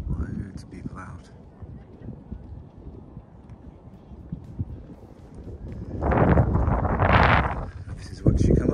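Wind gusting against the microphone on an exposed hilltop, Painswick Beacon in the Cotswolds, with low rumbling buffets, growing stronger partway through, while a person talks over it.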